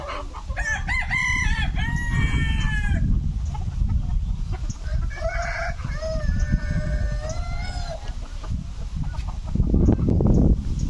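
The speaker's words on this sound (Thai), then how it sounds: "มี ไก่พันธุ์หลายๆชนิด" Chickens of various breeds in the grounds of a temple crow and cluck nearby, with several rising crows in succession over a dense bed of clucking and farmyard background.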